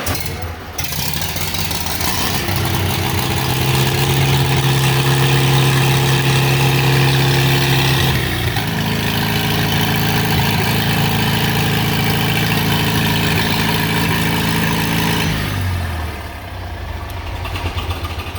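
A vintage John Deere or Farmall tractor engine cold-starts at half throttle in neutral with the choke pulled, then settles into a loud, steady idle with a deep harmonic drone that shifts pitch partway through.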